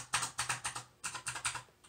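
Typing on a new computer keyboard, a quick run of crisp, close key clacks in two bursts of about five strokes each, heard alone without talk.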